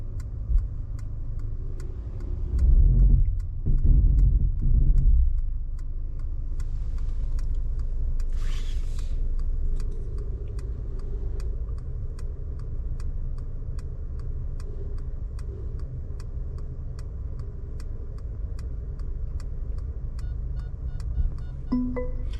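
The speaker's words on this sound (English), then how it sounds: "That is the automatic parking function." A 2023 Mercedes GLC300 4matic parks itself, the steady low hum of the engine and cabin running throughout, with a few brief louder thumps and whirs near the start as the steering and pedals adjust, then a quiet soft tick or two.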